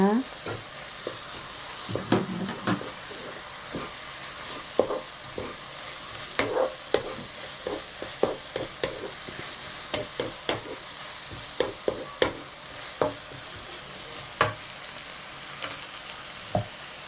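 Garlic and onion stir-fry together in a pan for pork yak-gochujang. A steady sizzle runs under repeated sharp scrapes and taps from stirring, and no voices are heard.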